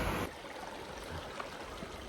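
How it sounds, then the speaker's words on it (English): A mountain river rushes beneath a snow bridge on a high trail, a steady broadband roar of flowing water, close and continuous, with no voices. "Beautiful river running through here."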